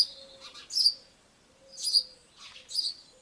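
House sparrows chirp in a garden, three bright bursts of twittering calls spaced about a second apart, close and clear over a faint steady hum, with no voices.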